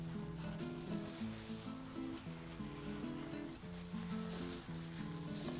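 Chicken pieces sizzling steadily in a hot pan, a continuous close frying hiss with a faint musical bed underneath and no talking.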